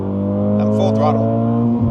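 A 2024 Acura Integra Type-S (DE5) with a carbon intake runs at full throttle in third gear on a dyno at 9 psi of boost, a loud, steady droning engine tone that shifts near the end, with talk over it.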